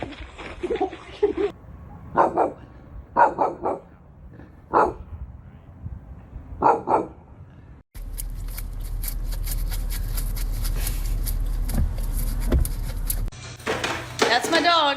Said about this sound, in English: That's my dog, Lainey Wilson.